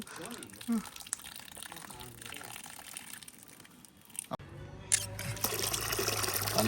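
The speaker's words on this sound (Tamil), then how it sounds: "விட்டு நல்லா கழுவுண்டு வெள்ளையாக வரணும் தானே" Ingredients for koozh being washed by hand in water until it runs white, with watery swishing and splashing under a person talking throughout, growing fuller and louder in the second half.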